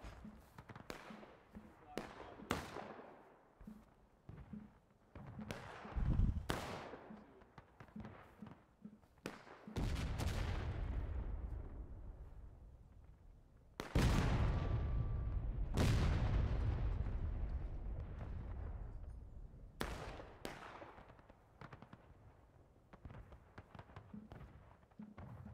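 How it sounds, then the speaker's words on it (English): Heavy cannon fire in the Civil War battlefield game War of Rights: several loud, booming blasts with long rumbling tails, interspersed with sharper distant shots and battle noise throughout. "I don't know what you guys are doing with this cannon."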